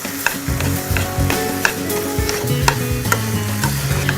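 Grated carrots roast in desi ghee in a pan, with a steady sizzle and frequent scraping stirs of a spoon against the metal. No one speaks.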